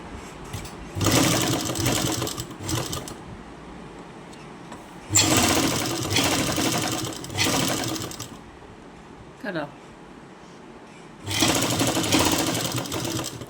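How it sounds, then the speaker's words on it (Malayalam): Three loud bursts of a sewing machine stitching fabric, each a few seconds of rapid whirring, separated by quieter pauses with someone talking and a brief handling noise. "ഇതിങ്ങനെ താഴോട്ട് സ്റ്റിച്ച് ചെയ്ത് പോവുകയാണേ"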